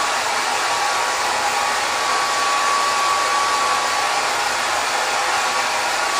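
A hair dryer blows steadily and loudly on hair during a haircut, a continuous close rushing whir with a faint whine and no talking.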